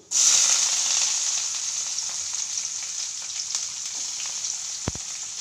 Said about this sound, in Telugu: ఉద్దిపప్పు కొద్దిగా అన్నీ వేసి వేయించుకోవాలి